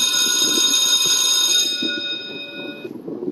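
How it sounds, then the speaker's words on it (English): A single bell is struck and its bright, sustained tone rings out clearly, then slowly fades away over a few seconds. "I also got to ring the bell"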